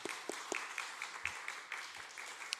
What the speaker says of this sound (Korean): 잠깐 일어날 때 우리 박수로 우리 격려했으면 좋겠습니다.